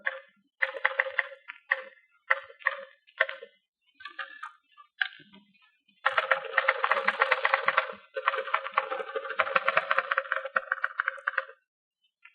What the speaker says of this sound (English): Listen to these two girls, each typing a letter.